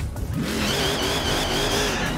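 Cars race in Forza Horizon 4, engines revving loudly and continuously with rising pitch and tire squeal, close and steady throughout.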